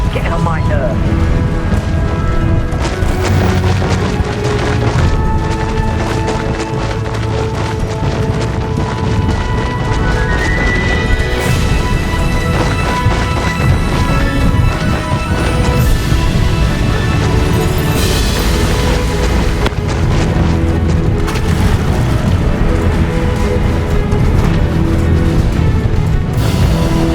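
Booming blasts and crashes from the video game Hogwarts Legacy roll on continuously under a dense music score and game voices, loud and sustained with no clear single detonation standing out.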